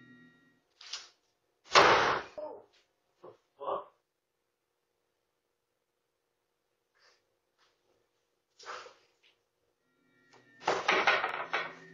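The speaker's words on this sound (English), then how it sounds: "One of the doors is aggressively yanked shut" An interior door is yanked hard and slammed shut at night, giving one loud, sharp bang followed by a few softer knocks and clatters, then quiet, and another burst of rattling door noise near the end.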